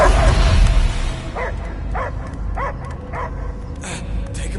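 A dog barks in the video game Guardians of the Galaxy: a loud yelp, then a regular run of five or six sharp, evenly spaced barks close by, with game ambience underneath.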